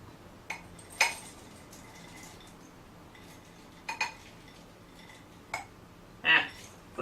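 Pecans dropped in small handfuls into a mixing bowl of vegan oatmeal chocolate chip cookie dough, giving a few sparse, light clinks and rattles scattered between quiet pauses, close and faint.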